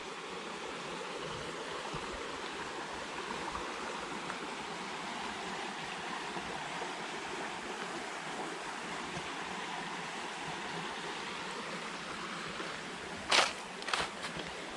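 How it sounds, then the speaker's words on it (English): Rushing water of a small stream at Alafia River State Park, a steady broadband wash that fills the whole clip, close and even, with a couple of sharp clicks near the end. "But I heard the rushing water,"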